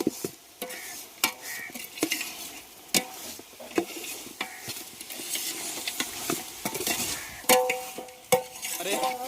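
Chicken fry with tamarind water stirred in a pan, a spoon scraping and clicking in repeated sharp strokes over a steady close sizzle.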